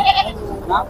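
A goat bleats twice in quick succession, fairly loud and close, over a low background murmur at a livestock market.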